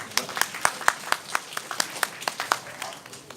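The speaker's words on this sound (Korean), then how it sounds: "열심히 강연해주신 오영훈 집행위원장님께 다시 한번 큰 박수 부탁드리겠습니다." An indoor audience claps for a lecturer after a talk at a Korean reunification supporters' event, with a short burst of scattered, moderately loud hand claps.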